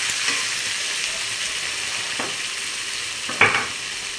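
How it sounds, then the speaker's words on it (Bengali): Green chillies stirred and frying in a pan of hot oil with cumin, a steady close sizzle with soft scraping stirs and a brief louder spatter near the end. "কাঁচা লঙ্কাগুলো দিয়ে দিয়েছি। এগুলোকে আস্তে আস্তে নাড়াতে নাড়াতে"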